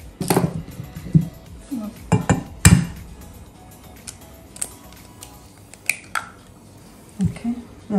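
Chocolate cake batter with buttermilk, oil and sugar is mixed by hand in a bowl, giving scattered clinks and scrapes of utensil against the bowl in irregular bursts, close and sharp against a quiet background.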